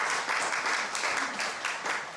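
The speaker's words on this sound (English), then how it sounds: "Could we just have another round of applause?" A seated crowd at a university welcome event claps warmly and continuously, a close, even wash of applause that stays at a steady level throughout.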